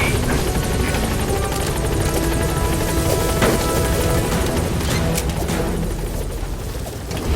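Helicopter arriving at a landing zone in Metal Gear Solid V: The Phantom Pain, a loud continuous rotor chop and turbine roar with a few sharp thuds mixed in, no talking.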